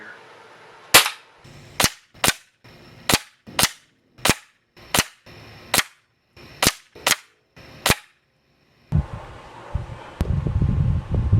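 Daisy 880 air rifle, old style, firing Beeman pellets at a 25-yard bench: ten sharp, loud cracks spaced about a second apart, then wind buffeting and rustling outdoors.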